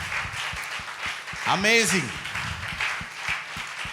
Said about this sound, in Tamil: இவங்களுக்காக நல்ல ஒரு கைதட்டு கொடுங்க.